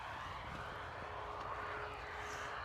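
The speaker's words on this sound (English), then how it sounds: "Our A320 EasyJet coming in from Glasgow." An EasyJet Airbus A320neo on approach to Bristol Airport, arriving from Glasgow, gives a faint, steady, distant jet roar that holds evenly throughout with no talk over it.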